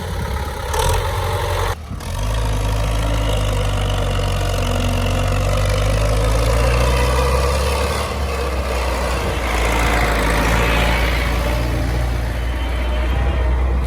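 An MTZ-82 tractor engine runs steadily at idle, stuck in loose soil in a field, a deep low rumble throughout with a brief clunk early on, close by and continuous.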